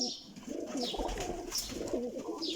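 Breeding pigeons in a loft coo softly nearby, repeating low throaty coos mixed with a few brief chirps, with no talking.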